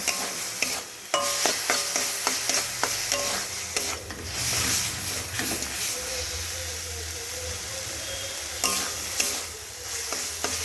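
Bitter gourd tossed with salt and spices in a pan over the stove, a continuous sizzle and hiss with repeated scraping and light clinks of a spoon stirring, close and steady.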